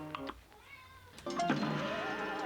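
Meowing from a cat in a video game, a couple of drawn-out, wavering meows following one another against a steady game background, with no one talking over them.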